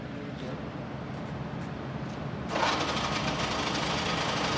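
A Mecof 45 mm radial drilling machine runs its spindle at 1140 rpm with a steady, dense mechanical hum and whir. A brighter, rougher layer of noise joins partway through, and the sound stays constant to the end.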